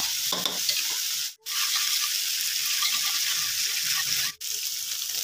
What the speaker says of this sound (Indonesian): lalu kita masukkan bawang merah dan bawang putih